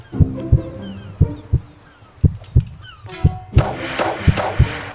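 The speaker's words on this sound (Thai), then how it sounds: "เสียงหัวใจเต้นไปยังไงวะ" A heartbeat effect in the Roblox game Arch Piece thumps in steady doubled lub-dub pairs, muffled and low, while brighter game effects swell in the background toward the end.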